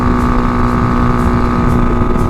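Tao Tao TBR7 dual sport motorcycle climbing a steep hill, its small engine droning loud and close under heavy wind buffeting on the microphone, steady throughout.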